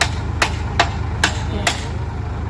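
Hammer striking hard in a steady series, five sharp metallic blows roughly half a second apart over a constant low engine-like drone.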